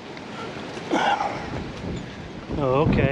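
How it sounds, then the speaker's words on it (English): Gusty wind buffets the microphone on a mountain cliff along a day-hike trail at Pickens Nose, a steady rushing roar that surges louder in bursts, with a person speaking briefly over it. "Wind is really blowing out here."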